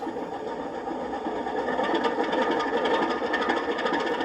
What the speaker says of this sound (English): It gives that nice or classic alto sound of a narrow gauge locomotive, so it sounds pretty rough